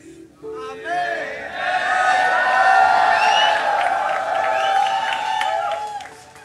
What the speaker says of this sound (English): See the clapping?